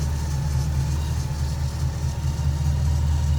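A 1950 Ford Custom four-door sedan engine idles smoothly and steadily, a low, even rumble heard up close with no talking over it.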